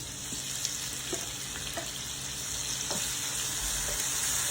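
Tomatoes sizzle steadily in a hot pan over sautéed onion, a continuous close frying hiss with faint scattered pops and no talking.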